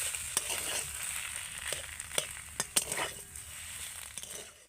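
A spatula stirs potato filling for egg cutlets in a hot pan, with a soft sizzle and several sharp metallic clinks and scrapes against the pan at irregular intervals, close and quiet.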